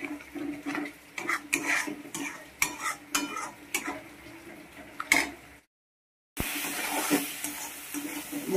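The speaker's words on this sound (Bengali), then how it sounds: "মশলাটা কষাচ্ছি" Spice paste with Kashmiri chilli powder for a Bengali chicken curry is stirred and fried over medium-low heat, a utensil scraping and clinking against the pan with a soft sizzle, then a brief silence and louder frying.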